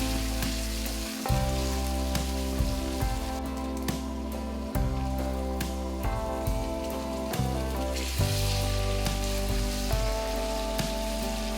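Chopped tomato hitting a hot frying pan as chicken biryani masala cooks with ginger-garlic paste, giving a steady crackling sizzle with repeated sharper pops and spits throughout, close and fairly loud, with no talking.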